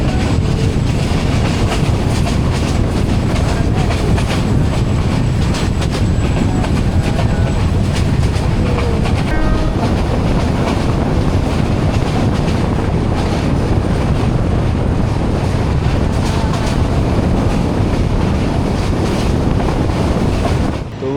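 Dhaka Mail train crossing the Ghorashal railway bridge over the river, a loud continuous roar of wheels and wind rushing past throughout, heard from onboard with no talk.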